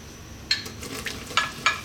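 Onions frying in olive oil in a pan, a soft steady sizzle with a few sharper stirring scrapes and clatters near the close, no voices.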